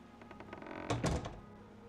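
A door opens in The Elder Scrolls IV: Oblivion: a soft creak and rattle, then a heavy, close wooden thunk, brief and heard alone.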